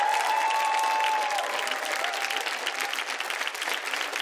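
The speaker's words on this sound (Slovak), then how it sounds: "Poprosím potlesk aj pre tohto menšieho solistu." Audience applause for a small soloist of a children's choir at a Christmas show, a steady, dense wash of clapping that holds for the whole stretch without any voices over it.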